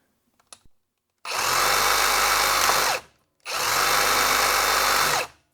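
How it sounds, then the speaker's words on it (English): A Japanese pruning blade on a power tool cutting through wet wood, two loud sustained grinding bursts of about two seconds each, separated by a short pause, heard up close after a few faint clicks. "I better put the Japanese pruning blade in here and actually cut some wet wood with it"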